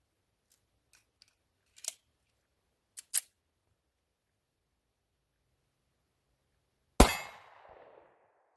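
A single sharp .45 ACP pistol shot strikes a half-inch-thick steel plate at about seven seconds, a loud crack with a ringing decay, preceded by a few faint clicks and handling taps.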